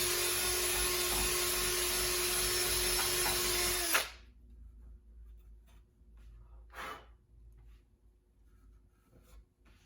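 Flap wheel polishing an aluminium intake manifold gives a loud, steady grinding whine for about four seconds, then cuts off abruptly, leaving quiet scattered handling noises.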